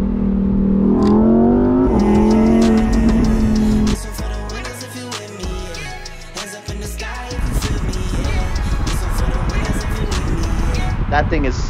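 Exotic car engine, likely a Ferrari F8 Spider or Lamborghini, revs loudly close by with rising and falling engine tones, drops briefly, then roars again; voices can be heard faintly in the background.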